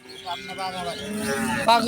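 A heifer about ten or eleven months old moos close by at a cattle market in Rajshahi, a drawn-out low bellow that rises toward the end, with faint background noise.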